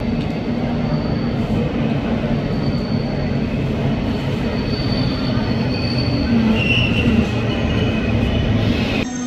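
A five-car double-deck DB regional express train rolls into a platform in Lower Saxony with steady low rumbling and metallic wheel squeal rising toward the end, loud and close, with no talking.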